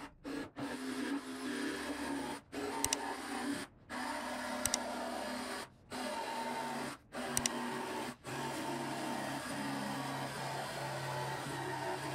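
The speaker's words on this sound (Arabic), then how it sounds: "هستعمل الاركت بقى في اني اقص الخشب حسب الفورمه والتصميم" An electric jigsaw cuts wood pieces for a folding sea chair, giving a steady buzzing drone that breaks off in several brief pauses before resuming, close by and moderately quiet.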